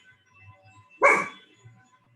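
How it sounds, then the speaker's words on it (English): A single sharp dog bark sounds once, fairly close, standing out from a quiet room with only faint low background murmurs before and after. "And that's my dog."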